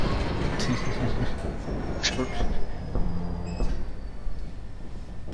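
Moving train in the video game Half-Life 2, a loud continuous rumble and rattle with occasional clanks, heard steadily beneath people talking.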